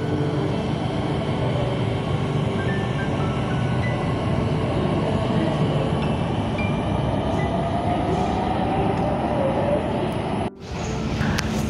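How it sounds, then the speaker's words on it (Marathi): A Pune Metro train pulls away from platform 1 toward Civil Court with a continuous loud rumble and a faint rising electric whine that lasts about ten seconds, then cuts off sharply. "प्लॅटफॉर्म 1वरून सध्या सिव्हिल कोर्टपर्यंत जाणारी मेट्रो ट्रेन सुटते"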